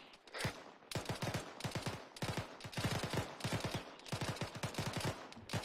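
PKP machine gun fire from an Arma 3 battle comes in several rapid automatic bursts, each a quick string of sharp shots separated by short pauses, moderately distant and steady.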